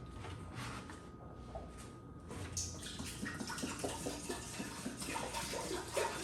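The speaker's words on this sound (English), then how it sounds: "All we gotta do is get the water in our pot." Tap water runs steadily into a metal brewing pot for a one-gallon beer batch, a continuous broadband rush that swells slightly as the pot fills, close and alone with no talk.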